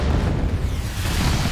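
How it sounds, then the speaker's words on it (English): Loud, continuous booming blasts from explosions at the London Marathon, a heavy low rumble sustained for the whole moment with no clear gaps, close and dominant over the crowd. "Explosions!"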